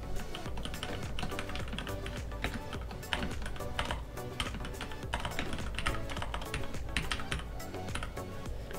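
Fingers tap quickly on a computer keyboard, a continuous patter of close, crisp keystrokes with small pauses, heard alone at moderate volume.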